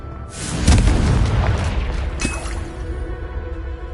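A fiery spell explosion in Hogwarts Legacy on PS5 lands as a deep, booming blast with a rumbling tail, followed by a smaller second burst and a fading crackle.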